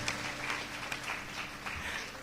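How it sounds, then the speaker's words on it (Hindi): A church congregation claps loudly to bless the children at a testimony service, a continuous crowd of hands heard through a low, hum-laden room recording. "उनको ताली बजा के आशीषित करिए"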